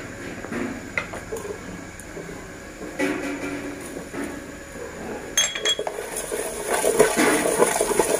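Wet squelching and soft clinks of chicken being stirred and tossed with minced shallot, garlic and chili marinade in a bowl, steady and close, with occasional utensil taps.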